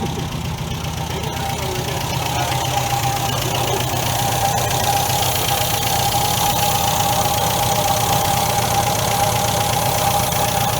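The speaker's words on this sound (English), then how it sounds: "This carburetor is so much louder than this one." The engine of a 1973 MGB GT runs loudly and steadily with a noisy carburetor, giving a close, continuous rough idle with an even mechanical drone that persists throughout.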